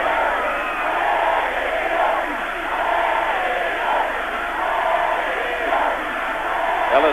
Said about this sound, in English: the crowd really starting to get behind the local side now